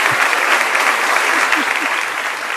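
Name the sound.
audience clapping to welcome Keisa Sharpe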